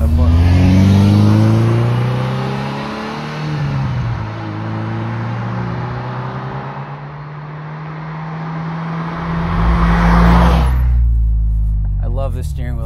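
A Ferrari 328 engine revs loudly and climbs through the gears on a canyon drive, pitch rising then dropping at each shift, close and dominant, with a brief voice near the end.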